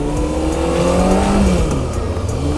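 A 2005 Honda CBR600F4i motorcycle engine drones while riding, a loud, close, steady hum with a slight rise and fall in pitch amid rushing wind.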